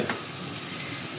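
Peppers sizzle and fry in a hot pan for piperada vasca, a steady close hiss with light crackle throughout and no talking.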